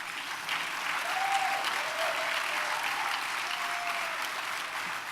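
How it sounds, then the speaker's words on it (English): An audience at a Global Sustainability Network award ceremony claps steadily after a name is announced, a dense, sustained round of applause at moderate distance that holds evenly for several seconds. "you may applaud at hearing each name"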